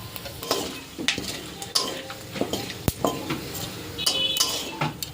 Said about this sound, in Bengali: গোটা গরম মশলা, লবঙ্গ, দারচিনি, এলাচ, তেজপাতা আর গোটা জিরে একসাথে ফোড়ন দিয়ে নেব